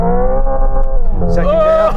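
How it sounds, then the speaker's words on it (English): Simulated engine note from a Hyundai Ioniq 5 N played through speakers in its manual-gearbox mode, held loud and steady at the first-gear rev limiter, with a rising whine and crackle near the end. "So look, first gear, I'm going to hit the rev limiter."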